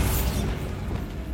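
Bombarda blasting spell going off in a wizarding video game, a loud booming burst up front that rolls into a dense, rumbling crash and then settles into a sustained low roar with no voices.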